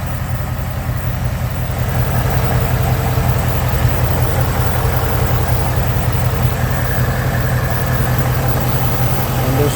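A 2019 Ford Mustang GT V8 idles steadily with no ticking, a loud, even low rumble with a constant mechanical hum throughout and no voices.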